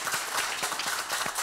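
An audience applauds, with quick, dense clapping from a crowd heard close and steady throughout the short burst.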